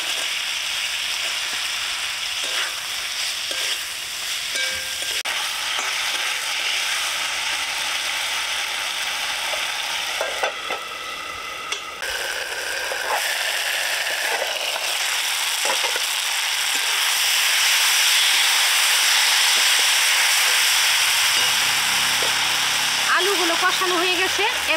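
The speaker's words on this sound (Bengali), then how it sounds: "এবার কেটে রাখা আলুগুলো দিয়ে দিব।" Cut potatoes frying in a spiced masala in a pan while being stirred for a small-fish chorchori, giving a loud continuous sizzle with scraping stirs close up; a voice talks partway through.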